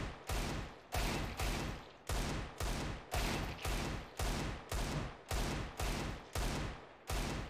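A steady series of about a dozen loud, sharp Desert Eagle pistol shots from a crouched shooter in a first-person shooter game, evenly spaced roughly every half second, each with a short decaying tail, no talking.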